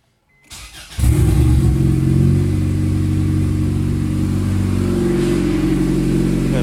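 A turbocharged Honda Accord engine cranks briefly, catches and then runs loudly and steadily with a slight rev, close by and with no talking.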